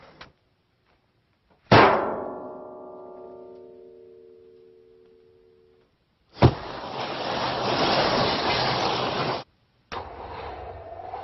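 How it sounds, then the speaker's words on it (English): A Foley metal ramp for a car gives a sharp metallic clang that rings out and slowly decays. Later comes a loud, sustained rumbling scrape, then a shorter burst of the same. "This is just giving you a metallic, ringy metal ramp sound."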